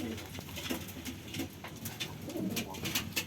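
Soft, repeated pigeon coos close by, several low murmuring calls in a loose rhythm over faint background rustle.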